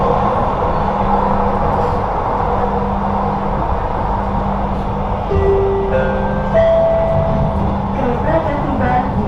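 Jakarta MRT train running toward Rasuna Said station, a steady loud rumble of the moving car with rising electric motor whine tones, heard from inside under cabin noise.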